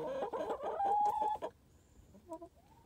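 Chickens cluck and squawk loudly in a burst outdoors on a cold Montana winter day, one drawn-out call rising above the rest, then a softer cluck follows after a pause.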